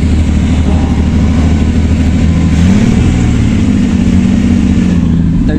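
A Mercedes W123 engine running loud and close with a steady low rumble, its pitch rising briefly midway as it revs, then settling back to an even idle.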